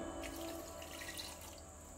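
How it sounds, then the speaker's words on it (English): Water pours into a glass while a pineapple mocktail is made with salt, red chili powder and chaat masala, a close, steady trickle and splash running throughout. "Put a glass of water."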